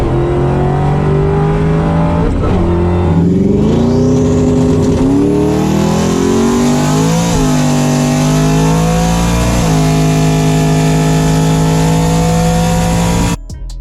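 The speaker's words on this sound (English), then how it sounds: "taking the Foxbody Saleen to the dyno, seeing what it made on raw power" A Foxbody Saleen Mustang, fitted with nitrous, roars on a dyno at very loud, close range, its engine climbing through sweeping revs, dipping, and rising again before cutting off abruptly at the end.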